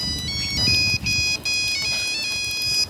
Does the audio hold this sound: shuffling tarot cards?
no